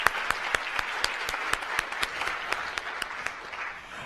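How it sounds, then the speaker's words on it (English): An audience at a women's leadership colloquium gives the presenters another round of applause, an even roll of many hands clapping with a few sharper, louder claps standing out near the front. "Let's give all of our presenters another round of applause."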